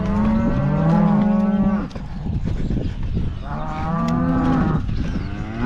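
Cattle on a farm lowing nearby: two long, loud moos separated by a pause, with rustling and shuffling between them.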